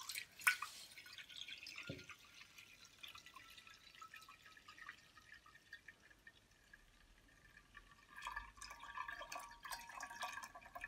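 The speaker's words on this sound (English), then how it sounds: "I'm going to have to drain the machine down first." Water draining out of a Bosch WFF2000 washing machine during a repair, a faint trickle and drip running throughout with a short knock early on, quiet and alone.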